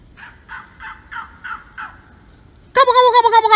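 A man imitates a turkey gobble out in the woods, giving a series of six short, evenly spaced gobbling calls at moderate distance, followed by a louder, closer burst of rapid gobbling at the end.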